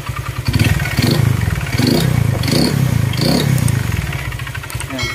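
A Honda Click 125 scooter engine with a worn connecting rod runs close by with a rough, rhythmic knocking and clatter, the engine revving in repeated surges.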